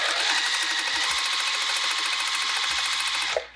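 A sewing machine running steadily at a long stitch length, flattening bag seams with foam inside: a loud, continuous, close whir that stops abruptly near the end.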